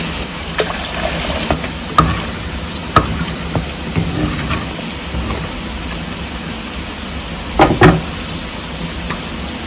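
Water is poured and splashed over tamarind pulp being squeezed by hand for rasam, with soft trickles and scattered wet splashes and a louder burst of splashing near the end.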